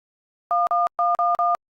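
A phone call being placed in a Telugu comedy web series, heard as five loud, evenly spaced electronic tone beeps in quick succession after a moment of silence, with no talk.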